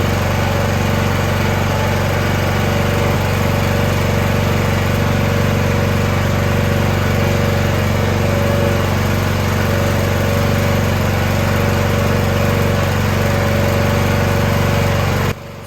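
A Honda GX390 engine on a Split Force 13/20T firewood splitter runs steadily and loudly throughout at a constant drone, with no talk.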